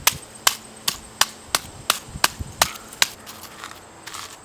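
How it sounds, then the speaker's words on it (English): A round stone crushing charcoal on a flat rock outdoors, about ten sharp, evenly spaced cracking knocks that soften into quicker scraping taps toward the end, close and clear with no voices. "take a flat rock like this or some other flat surface and then a good round stone and just start to crush"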